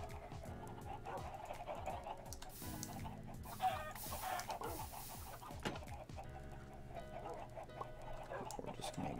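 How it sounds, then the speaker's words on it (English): Chicken clucking in a multiplayer video game, faint and intermittent beneath a busy background of game sounds and muffled voices, with short clucks scattered through. "That chicken is playing a dangerous game."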